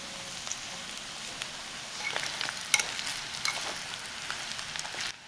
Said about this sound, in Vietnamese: Khi hành tỏi đã dậy mùi thì mình cho luôn phần thịt ba rọi vào. Đảo đều cho thịt được áo đều hành tỏi giúp thịt thơm hơn.